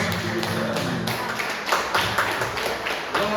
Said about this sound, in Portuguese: Aquela salva de palmas para o nosso Deus.